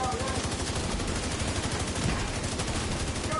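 Rapid bursts of video game gunfire fill the whole stretch, dense and steady like automatic weapons, with faint voices underneath.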